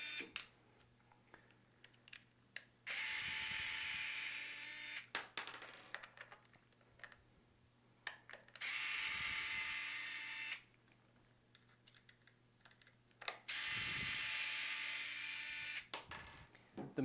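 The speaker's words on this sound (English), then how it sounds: "I'm going to go ahead and remove these 4 screws" T10 Torx screws come out of a conical coffee grinder's motor plate with three separate bursts of high, buzzing whir from a powered driver, each lasting about two seconds. Quiet pauses with small clicks fall between them, and the sound stays close and faint.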